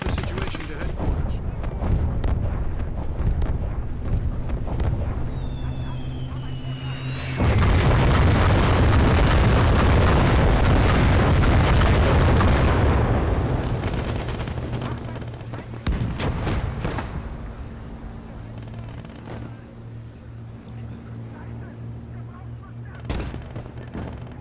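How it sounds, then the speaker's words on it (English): Artillery opens up in Call to Arms - Gates of Hell, with a long, loud barrage of booming shots and explosions that swells into a dense roar for several seconds, then eases back to scattered distant bangs and low battlefield rumble. "Enemy artillery took up positions on the shore!"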